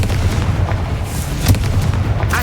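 In Hogwarts Legacy, a Confringo fire spell detonates as a heavy, rumbling blast, with a sharper crack around the middle among continuous booming game effects.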